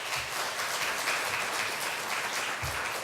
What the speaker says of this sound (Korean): 우리 나오실 때 박수로 환영하도록 하겠습니다